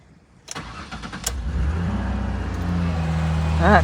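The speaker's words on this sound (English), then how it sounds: "That car starts rough." A car starts from cold with a click and a grinding crank, then catches into a rough, uneven idle that swells louder and steadier over a few seconds, with a brief voice near the end.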